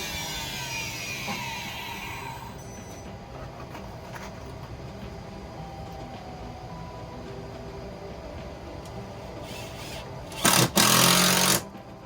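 A ShopBot CNC router drills holes for face shields, giving a steady, close mechanical drone with a rattling rhythm and a high whine early on, then two loud bursts of hissing noise near the end.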